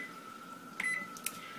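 An oven timer being set chirps with a short electronic beep, followed by a second quick faint blip, both close and clear over a faint steady hum.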